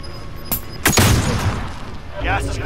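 Gunfire in a battle-royale video game: a few sharp shots and a heavier booming burst ring out, with players talking over the action.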